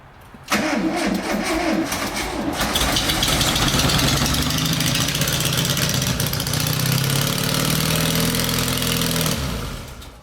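A 1973 Volkswagen Bus engine fired up for the first time in 23 years: a short crank, then it catches and runs loud and close at a steady idle for about nine seconds before cutting out.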